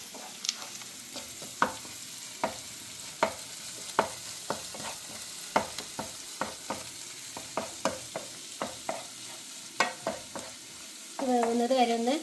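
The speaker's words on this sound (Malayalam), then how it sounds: "വേവുന്നത് വരെ ഒന്ന് ഇളക്കി കൊടുക്കുക." A spoon scrapes and stirs egg noodle masala in a pan over a low gas flame, with irregular sharp clinks and scrapes over a faint sizzle, close and fairly loud, and no talking.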